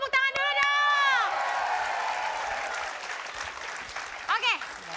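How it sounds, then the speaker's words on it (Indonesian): A studio audience on a TV variety show bursts into applause after a rising cheer, the clapping loud at first and then fading, with a voice briefly heard near the end. "Tepuk tangan dulu dong."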